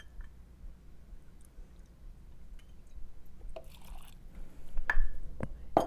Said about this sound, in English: I'm going to put a half a cup of water in both.